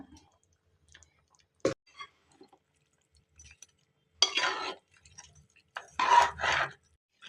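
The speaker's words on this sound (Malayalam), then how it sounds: "ഇനി നമുക്ക് വേവിച്ച് വെച്ചിരിക്കുന്ന നമ്മുടെ ഫയോമി കുട്ടന്മാരെ ഇതിനകത്തേക്ക് ഇട്ട് കൊടുക്കാം. എല്ലാം കൂടി ഇളക്കി കൂട്ടാം." Fayomi chicken curry is stirred in a pan: mostly quiet, with a sharp clack, then two louder bursts of scraping and sloshing near the end.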